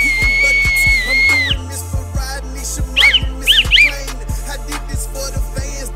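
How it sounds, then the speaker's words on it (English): A thin whistle blows briefly over rhythmic music with a steady beat, followed by a few short, warbling whistle chirps. "That is the wussiest whistle blow I've ever heard."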